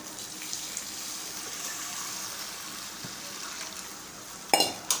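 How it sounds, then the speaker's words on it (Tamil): Water poured into a pot of rice and moong dal, a steady faint gushing splash running throughout with a louder sharp clatter near the end. "நான் மூணு டம்ளர் தண்ணி எடுத்து வச்சுருக்கேன் அதை வந்து உள்ளே ஆட் பண்ணிடலாம்"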